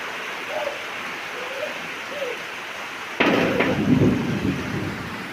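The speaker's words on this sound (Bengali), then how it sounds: "আকাশ ডাকতেছে" A sudden loud thunderclap breaks over steady rain falling at a village house in the middle of the rice harvest, cracking and then rumbling on for a couple of seconds, with faint bird calls before it.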